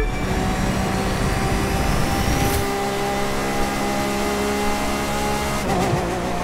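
A car in The Crew 2 accelerates hard on a straight road, its loud, close engine roaring continuously and climbing in pitch, with a brief shift in tone partway through and another near the end.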